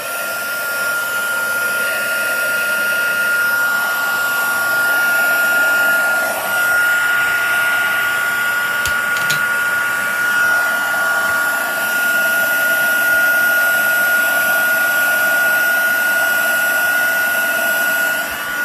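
A heat embossing tool blows hot air to melt embossing powder on a Christmas gift tag, a loud steady whooshing drone running unbroken throughout with no talking.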